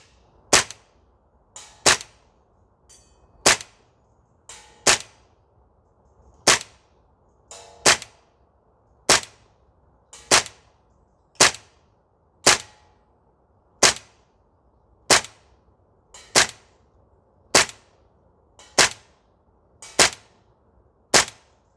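A Tokyo Marui MP7A1 gas blowback airsoft rifle fires single shots on a range, sharp metallic cracks spaced about a second apart in a steady series of roughly seventeen, each ringing briefly over a quiet background.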